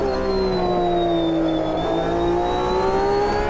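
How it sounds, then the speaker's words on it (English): A race car in the Automobilista 2 sim racing game holds a loud, steady engine drone with a high transmission whine that dips and climbs again, sustained and close with no talk. "You have the transmission whine which builds and builds as you go up through the revs, and then the usual chattering away"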